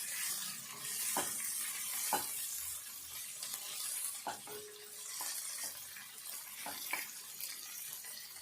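Mint leaves fry in oil in a pan, giving a steady soft sizzle and crackle with occasional stirring scrapes and taps, close and fairly quiet, no voices.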